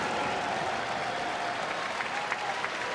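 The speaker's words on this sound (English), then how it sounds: "the crowd will give Castillo a nice round of applause" Steady applause from a baseball stadium crowd at a Brewers at Cincinnati Reds game, greeting the pitcher after a no-hitter is broken up; sustained, dense clapping fills the whole stretch with a faint background murmur.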